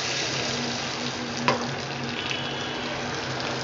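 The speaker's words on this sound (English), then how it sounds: "I will add 1 teaspoon of butter to this." A spoonful of butter sizzles in a pan of melted sugar as caramel is made for popcorn, a steady close frying hiss with one brief clink partway through.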